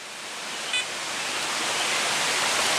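Spring-fed Onion Creek flows in a steady, broadband rush of water, close and constant with no voices, with a faint brief tone near the start.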